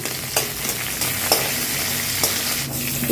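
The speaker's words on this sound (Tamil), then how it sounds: "முந்திரி பொரிக்கிறேன் நெய் போட்டுக்கிறேன்" Steady crackling sizzle of cashews frying in hot ghee, with a few sharp pops and faint stirring scrapes, close and continuous.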